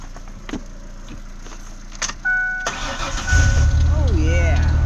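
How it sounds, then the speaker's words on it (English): A red Ford Explorer cranks briefly and then catches and starts, settling into a loud, close engine rumble, with a tone sweeping up and down as it begins to run and people talking over it. "Let's see if she'll crank."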